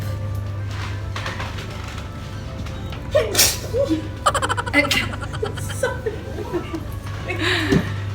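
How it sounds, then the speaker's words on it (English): A sneeze sound effect bursts out amid scattered laughter and short vocal noises over a low steady hum. "Adding a sneeze to the video."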